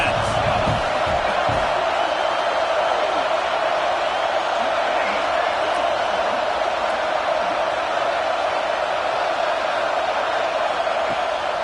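Football stadium crowd at a Michigan versus Oregon game roars in a steady, dense wash of noise that stays loud and unbroken throughout, with no individual voices standing out.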